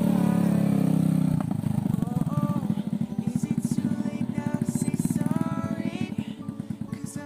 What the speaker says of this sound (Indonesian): keretanya pelak racing Pak Parno.